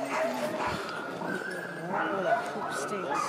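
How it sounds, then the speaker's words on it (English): A dog at a snowy sleigh ride gives short barks and yips, fairly faint and partly buried under people talking nearby, with soft outdoor bustle in the background. "Did you see the dog?"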